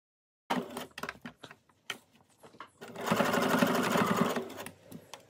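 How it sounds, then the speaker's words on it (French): Twin-needle sewing machine stitching along the edge of a doubled fabric band, short stop-start bursts of rapid mechanical clatter followed by a longer sustained run, close and clear. "à la double aiguille, on va piquer au bord de sa bande en double sur l'endroit"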